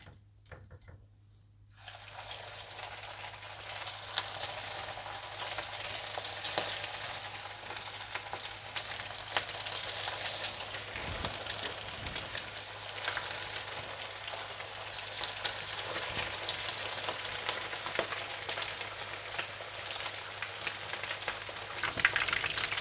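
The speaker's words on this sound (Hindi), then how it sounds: "आप तेल गरम करें और इन्हें बिल्कुल हल्की आंच पर फ्राई कर लें" Coated chicken kebabs frying in hot oil over a very low flame, a dense, even sizzle that starts abruptly and then crackles steadily and close for around twenty seconds, with faint scattered pops and a low constant hum beneath it.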